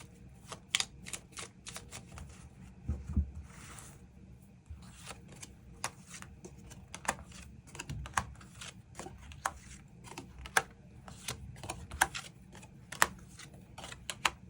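Tarot cards being drawn and shuffled close by, a quiet steady run of crisp snaps and soft flicks with no talking.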